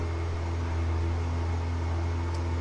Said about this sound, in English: excuse the noise, they're dynoing